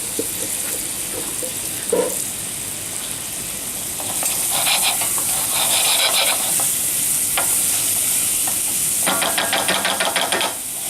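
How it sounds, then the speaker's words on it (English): Loud, continuous sizzling of vegetables stir-frying in a hot pan, with bursts of scraping and stirring as they are tossed, no voices. "I want to be able to hear that sizzle."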